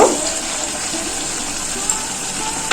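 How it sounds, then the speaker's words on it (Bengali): Water poured into simmering chicken curry in a pan makes a continuous gushing, bubbling splash, close and fairly loud, with a couple of brief knocks near the end. "অল্প করে একটু জল দেব এই চিকেনটাতে"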